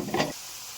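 Banana flower and potatoes fry with chili, cumin and turmeric powders in a pan, a brief loud sizzle and stir that cuts off abruptly into near silence.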